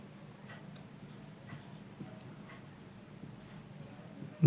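Pen scratching on paper as someone writes by hand while working a Class 10 quadratic equations problem, faint and continuous with soft rhythmic strokes in a quiet room.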